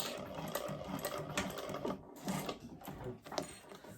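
A sewing machine stitches a bag with quick, rhythmic mechanical chatter, close and moderately quiet, in short bursts with brief pauses and no talk.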